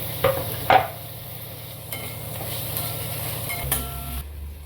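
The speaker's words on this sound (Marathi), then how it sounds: "टोमॅटो चांगलं तेल सुटेपर्यंत परतून घेऊ" Onion and tomato cook gently in oil, a low soft sizzle with a few sharp scrapes of a spoon against the pan early on, alongside a steady low background hum.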